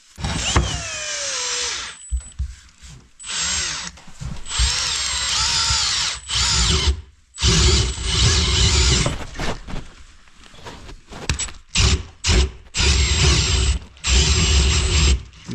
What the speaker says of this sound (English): The drilling that is not gonna be pleasant